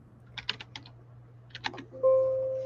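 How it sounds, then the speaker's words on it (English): Typing on a computer keyboard, two quick bursts of keystrokes clicking close by, followed by a sustained electronic tone. "Typing in the word presumption."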